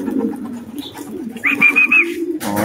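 Soft, low racing pigeon cooing repeats throughout, with a few brief higher chirps and rustling mixed in, fairly close.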